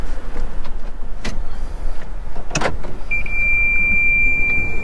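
A used car's electric window motor whirs steadily for a couple of seconds near the end, over a low idling engine and cabin noise, after a couple of brief clicks, at a wholesale car auction.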